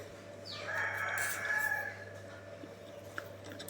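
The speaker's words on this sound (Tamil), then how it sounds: "கோழி கூட கூவிடுச்சுங்க." A rooster crows once in the early morning, a faint, distant cock-a-doodle-doo over a low steady hum, followed by quiet background.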